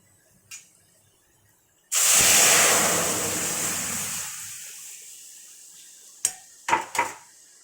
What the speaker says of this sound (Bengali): এর মধ্যে আমি ডালটা দিয়ে দিচ্ছি